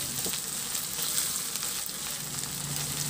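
Ground pork frying with onion in a pan, a dense continuous close sizzle with faint stirring, steady throughout with no voices.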